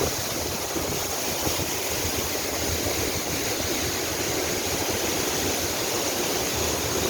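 Alitap Falls in Mauban, Quezon roars in a steady, dense rush of falling water, loud and unbroken from start to finish with no voices.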